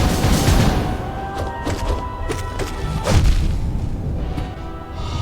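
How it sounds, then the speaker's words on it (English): A booming explosion during a Pantheon 5 boss fight in a video game, with deep thuds and crashing impacts rolling through a loud, busy mix of game sounds. "See this explosion."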